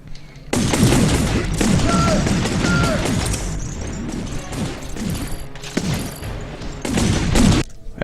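Heavy, continuous gunfire in the video game Advent Rising: dense rattling volleys and crashing impacts run almost nonstop, loud and close, easing briefly before another burst near the end.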